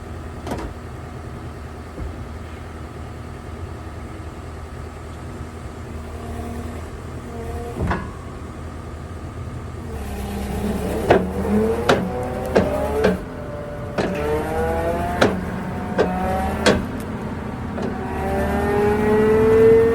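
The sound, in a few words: vehicle engine started and revving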